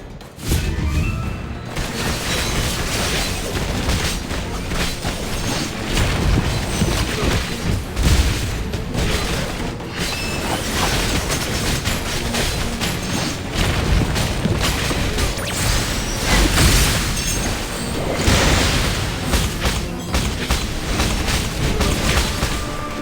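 Turret fire and explosions from AFK Journey, a dense, continuous barrage of booms, crashes and mechanical clatter at loud, steady level throughout.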